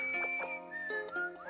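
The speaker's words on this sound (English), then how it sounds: "I'm laughing at the whistling in the background." Someone whistles a wandering tune in the background, clear sustained tones sliding up and down with short breaks, fairly quiet and alone with no talk over it.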